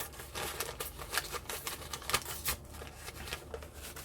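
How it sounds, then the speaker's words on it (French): Newspaper pages are ripped by hand for a mixed-media craft project, giving a quick run of crisp, crackling paper tears, close and fairly quiet, with no talk. "je vais venir déchirer"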